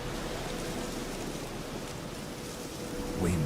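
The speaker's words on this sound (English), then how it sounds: "the sound of rain that muffles as you go inside a building." Steady rain from The Witcher 3 hisses as a continuous broadband wash, with a brief brighter patter or splash near the end.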